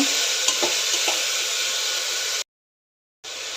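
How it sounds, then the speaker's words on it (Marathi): Mixed vegetables sautéing in a pan for khichdi, a steady close sizzle with faint stirring taps, then a brief cut to silence before the sizzling resumes. "आता हे सर्व चांगलं परतून घेऊया दोन मिनटं परतून घेऊया सर्व"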